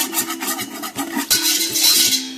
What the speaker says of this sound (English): this is 1/2 cup of coconut flour. So again, whisk it in